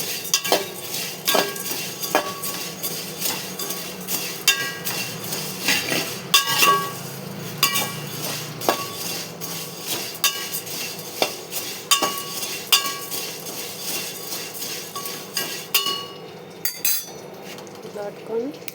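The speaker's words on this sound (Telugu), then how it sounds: "గిన్నె పెట్టుకొని గ్యాస్ ఆన్ చేసుకొని స్లోగా పెట్టుకొని ఒక 5 minutes ఇట్లా వేయించుకోవాలి" Laddu ingredients slowly roasting in a pot on a gas stove, with a metal spoon scraping and clinking against the pot in a steady rhythm of repeated knocks, close and moderately loud, with no talking.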